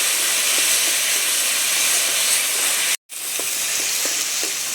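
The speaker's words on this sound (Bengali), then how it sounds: "মশলাটাকে একটু ভেজে নিয়েছি।" Cumin paste and spices fry in a pan with a loud, continuous hiss and sizzle, close up, with faint light clinks and one brief break in the middle.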